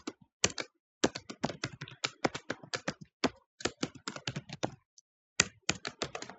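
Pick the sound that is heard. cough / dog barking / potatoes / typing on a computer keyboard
typing on a computer keyboard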